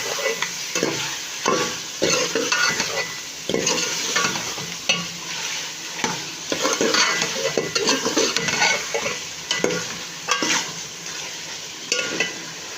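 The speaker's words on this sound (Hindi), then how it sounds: "हम इसको 15 से 20 मिनट अच्छी तरीके से बुनाई करेंगे" Chicken with coriander and whole spices sautéed in a pan, a steady sizzle under repeated scraping of a spoon against the metal, loud and close throughout, with no voices.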